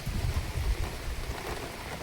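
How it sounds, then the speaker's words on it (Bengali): Steady rain patters on a surface, a dense continuous hiss with no voices. "সকালেই থেকে বৃষ্টিটা শুরু হয়েছে"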